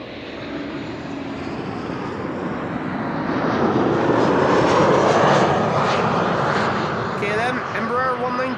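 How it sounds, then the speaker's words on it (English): An Embraer 190 airliner arriving from Bologna on runway 06 at Amsterdam Schiphol passes close by. Its loud, broad engine roar swells toward the middle and holds, with a short voice audible near the end. "Embraer 190 arriving from BLQ, Bologna."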